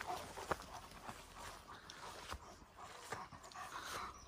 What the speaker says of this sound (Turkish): Aşağıdaki evin köpeği herhalde